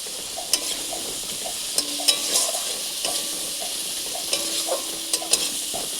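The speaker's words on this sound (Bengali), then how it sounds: "মশলাটাকে ভালো করে একটু কষে নেব।" A spatula stirs and scrapes spice paste with tomatoes frying in a pan for a potato and bhola fish curry. A soft sizzle runs under repeated rhythmic scraping strokes and sharp metallic taps, close by and without speech.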